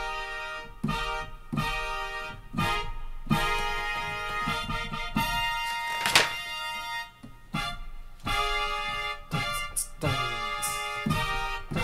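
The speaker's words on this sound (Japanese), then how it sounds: "これはブラスの音でした" Bright synthesized brass stabs on a Roland RD-2000 play a lively, bouncy melody with punchy rhythmic chords, steady and moderately loud throughout.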